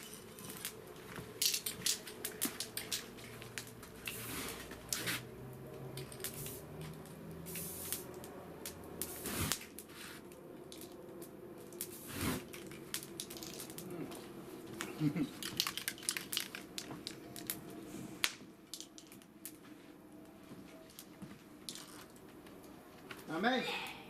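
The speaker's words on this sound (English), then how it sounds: "Let's see what 3-in-1 oil does to a fire." 3-in-1 oil sprayed onto an outdoor bonfire makes a steady hissing spray over crackling flames, with scattered pops and bangs while people talk nearby.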